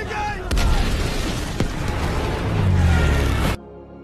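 A truck blows up in a World War II film scene of Soviet soldiers fighting Nazi troops near Moscow: loud, broadband blasts and booming rumble with sharp bursts, continuing for about three and a half seconds before cutting to a quieter tail.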